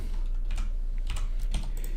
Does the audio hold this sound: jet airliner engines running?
no